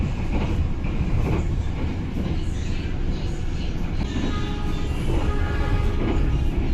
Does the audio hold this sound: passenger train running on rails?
yes